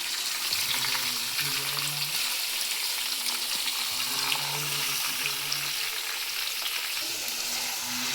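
Meat poured over onion and garlic in a pan, stirred slowly while it fries for an Eid dish, giving a steady, close sizzle with soft scraping of the stirring throughout.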